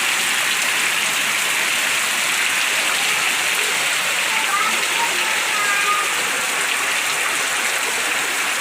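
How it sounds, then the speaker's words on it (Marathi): Heavy rain pours down at night in a loud, unbroken hiss. The roar stays constant throughout, like rushing water. "जोरदार पाऊस चालू आहे"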